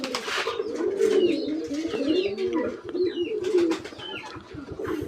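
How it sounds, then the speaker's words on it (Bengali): A pair of pet pigeons on a small hobby farm cooing close by, repeated low rolling coos pulsing steadily across the whole stretch with faint chirps behind. "এই কবুতরটা আমার খুব পছন্দের এক জোড়া কবুতর।"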